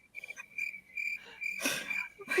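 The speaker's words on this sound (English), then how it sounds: "Crickets." Crickets chirp in a steady, high, faint trill that repeats in short bursts. Noisy rustles and breaths break in over the trill now and then.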